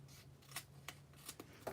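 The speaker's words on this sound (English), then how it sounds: "I'm just going to go ahead and use my scissors and trim." Scissors trimming overhanging cardstock on a handmade Stampin' Up fold card, a few quiet, soft snips spaced irregularly in a hushed room.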